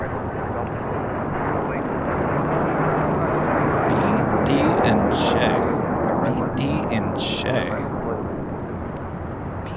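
A Hawker 900 XP business jet at LAX gives a loud, continuous broadband roar that swells and slowly fades as it passes, with a voice talking briefly over it midway.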